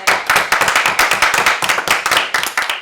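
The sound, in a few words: audience round of applause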